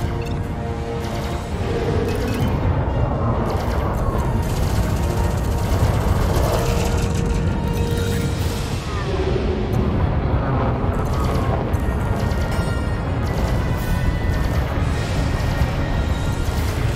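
Sustained loud roaring barrage of ship weapons fire in Elite: Dangerous space combat, dense and continuous with streaking tonal whines and explosive rumbles layered throughout, no pauses.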